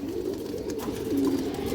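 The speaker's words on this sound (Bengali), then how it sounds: "এই যে দেখেন কাজলা গিয়ারের পুরান লাইনের কবুতর" Old-line Kajla gear pigeons cooing nearby, a low soft murmuring coo with a slight rise near the end, alone without talk.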